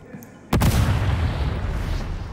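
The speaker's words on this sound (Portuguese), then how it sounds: "Blitz é uma granada." A Blitz grenade detonates in the video game Warhammer 40K: Darktide, one sudden loud boom followed by a long rumbling, crackling decay after a quiet lead-in.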